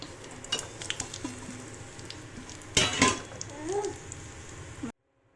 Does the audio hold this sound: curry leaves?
yes